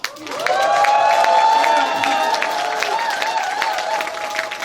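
A hall audience at a Democratic Party members' education event in Incheon Seo-gu breaks into loud, sustained applause with cheering and whooping, staying steady for several seconds before easing slightly.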